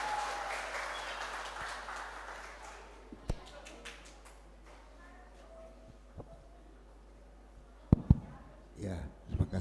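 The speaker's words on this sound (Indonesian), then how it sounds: "Beri aplaus yang meriah" Applause from a church congregation after a children's Sunday school song-and-movement performance at a Toraja church service, a broad wash of clapping that fades out, followed by a few sharp knocks and handling noises.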